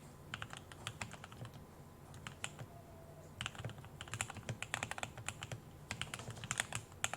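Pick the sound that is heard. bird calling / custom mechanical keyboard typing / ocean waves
custom mechanical keyboard typing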